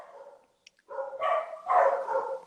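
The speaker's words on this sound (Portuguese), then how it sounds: "Cachorrada aí também, acompanhando aqui a nossa live." Several dogs bark in a suburban neighbourhood, a short burst of barks followed by louder overlapping yelping barks at moderate distance.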